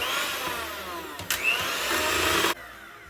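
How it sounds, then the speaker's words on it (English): Sorrel cake batter is whisked in a bowl, making a steady, close whirring rush with a brief surge partway through, then cutting off abruptly. "I'm just gonna whisk this a little bit more."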